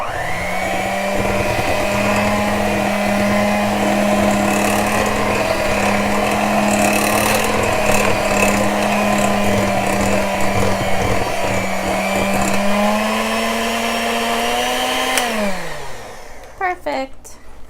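Electric mixer beating funfetti cupcake batter, a loud steady motor whine running throughout before winding down and stopping near the end, followed by brief clatter.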